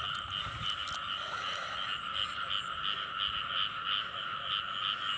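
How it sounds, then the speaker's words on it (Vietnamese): Large frogs croaking steadily in a flooded rice field, a dense, continuous chorus of rasping calls that stays fairly loud and even throughout, with no voices. "Thôi ếch khủng á, ếch này bự ạ, ếch cái đực đều bự hết luôn đó nhà ơi."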